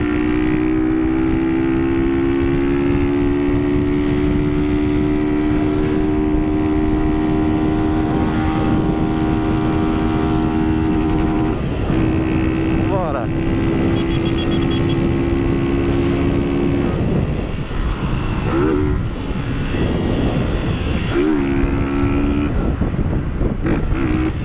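Small motorcycle engine revving and accelerating hard, a loud, steady harmonic whine that rises and holds, with brief throttle dips and shifts toward the end, dominating throughout with no talk.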